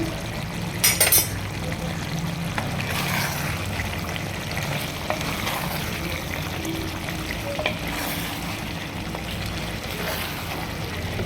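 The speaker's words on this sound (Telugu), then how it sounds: "కొద్దిగా ఉడుకుతుంది కదా కూర" Chicken liver curry cooks in a pan on the stove, giving a continuous, moderately loud sizzle and bubbling hiss with a couple of brief louder clatters early on.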